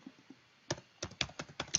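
Computer keyboard keys tapped in a short burst while a link is pasted into PowerPoint, faint scattered clicks first, then six or seven sharper keystrokes in an uneven rhythm, close and alone with no speech.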